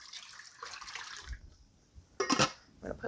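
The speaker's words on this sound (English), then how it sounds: "I'm just going to add my shrimp stock to this." Shrimp stock pours and splashes into a pot holding two quarts of water, a short gush of liquid after a softer trickle, heard close and alone.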